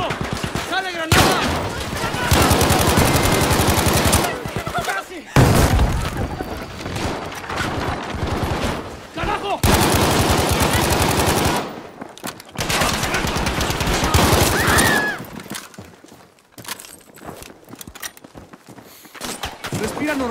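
Grenade blasts and dense gunfire in a video game battle, loud bursts of automatic fire and booms in rapid succession, with frantic voices shouting throughout.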